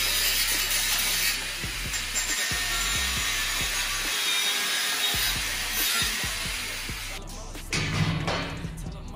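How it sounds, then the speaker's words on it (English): A hand hacksaw cutting through a steel tow bar, close and steady rasping strokes repeating in a rhythm, with a few sharper knocks and a brief pause near the end. "I had 5 seconds with it with a hacksaw"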